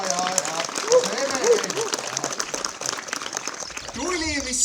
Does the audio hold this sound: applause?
yes